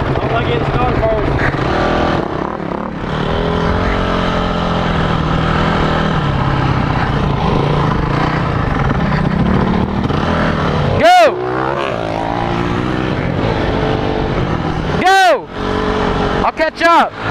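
Motorbikes race off in a steady, close engine roar that climbs and falls as they rev, with several sharp pass-by sweeps near the end while people talk throughout.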